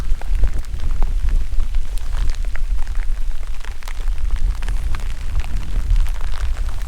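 Steady rain drums on a tent during a wild camp at Cadair Idris, a dense, continuous patter close overhead with a low rumbling undertone throughout.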